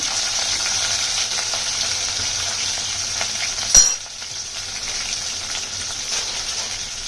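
Garlic and chili frying in oil in a pan for okra, a steady bright sizzle that runs on, broken by a sharp clank of a utensil before the frying settles slightly quieter.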